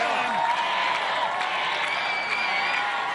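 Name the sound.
crowd cheering and applauding at American Ninja Warrior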